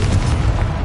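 Confringo explosive spell blast in Hogwarts Legacy, a loud, close, low booming burst that rumbles with no clear decay across the short moment.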